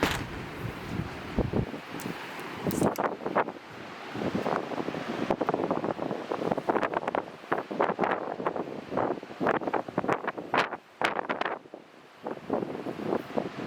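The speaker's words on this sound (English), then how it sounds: "but it's really windy." Strong gusts buffet a camera microphone beside the water in heavy, irregular bursts of roaring rumble, with a faint wash of waves beneath.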